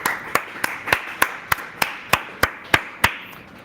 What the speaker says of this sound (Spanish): un aplauso por favor para el grupo